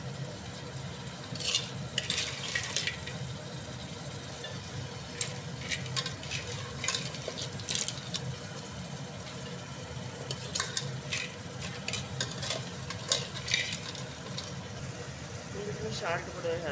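A pan of crab curry with ground coconut and salt being stirred back and forth, giving repeated scraping strokes over a steady low sizzle close by.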